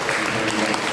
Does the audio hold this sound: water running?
no